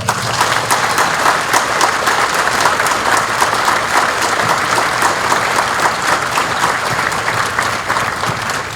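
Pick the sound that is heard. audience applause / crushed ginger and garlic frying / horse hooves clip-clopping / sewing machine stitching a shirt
audience applause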